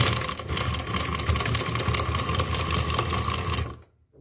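Sewing machine running a chain stitch on suzani embroidery, a loud, rapid, even mechanical chatter with rattling that runs steadily for several seconds before stopping abruptly near the end.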